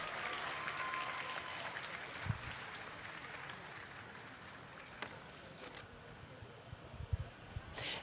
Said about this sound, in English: thank you for giving Brianna a big round of applause